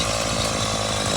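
An Earthquake 2-cycle cultivator engine, just fixed after broken fuel hoses kept fuel from the carburetor, runs with a loud, buzzing, close two-stroke drone for a short burst.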